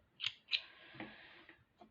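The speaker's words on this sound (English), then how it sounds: "I went to cut it with my scissors" Scissors snip clear beading thread for a bracelet, two sharp close snips followed by a faint trailing rasp and a light click, quiet and alone.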